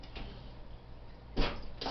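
A kitchen drawer is handled on its runners, giving soft sliding rubs and a couple of brief knocks, with one firmer clunk near the end, close and quiet with no talk.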